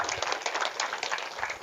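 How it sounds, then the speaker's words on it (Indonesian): An audience at an Islamic boarding school talk applauds, a steady wash of many hands clapping at a moderate distance with no pauses. "Tepuk tangan lagi."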